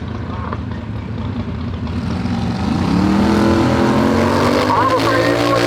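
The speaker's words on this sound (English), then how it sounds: "we got a little dragster action" A turbo 670 dragster roars down a drag strip, a loud sustained engine howl that climbs in pitch and intensity as it accelerates, with a voice talking over it.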